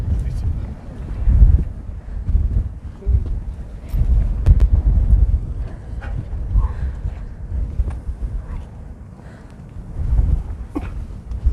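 Strong wind at Meteor Crater, Arizona, buffeting the microphone in loud, low gusting roars that swell and fade repeatedly, with occasional faint voices underneath.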